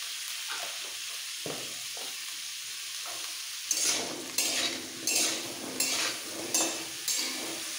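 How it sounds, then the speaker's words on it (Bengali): Pointed gourd (potol) pieces with salt and turmeric fry in a pan, a steady close sizzle broken by five or six regular scraping stirs of a spatula against the metal. "খুব বেশি ভাজবো না, একটু নরম করে হালকা নরম হয়ে গেলে তুলে নেবো।"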